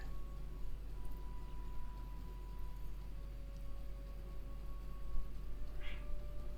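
One brief, fairly faint cat meow near the end, over an otherwise steady low hum.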